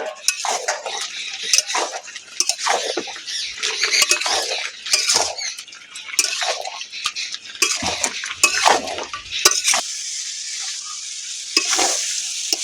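A spoon scrapes and clatters in a pot as fried potatoes are stirred into mutton with spices, in irregular bursts of close scraping and knocking over a faint sizzle, with no talking.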